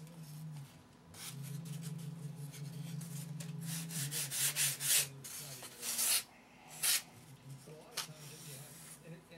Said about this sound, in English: just sand down to the foam, and that's a perfect rib